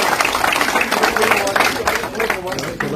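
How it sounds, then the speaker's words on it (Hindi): A crowd claps at a political gathering in Poonch where local councillors and PDP leaders join the BJP; uneven bursts of clapping mix with loud overlapping voices and shouting nearby. "तालियों के साथ"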